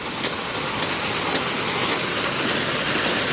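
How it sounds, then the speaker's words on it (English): Waterfall on an Oregon coast beach pours in a steady, loud broadband rush, a continuous close wash of falling water with no voices. "This is waterfall number 2 on this beach."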